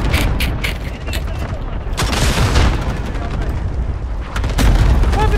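Gunfire in Modern Warfare, an AK trading shots with a silenced pistol at close quarters: loud rapid bursts and booming shots with mechanical clatter in a dense, continuous firefight.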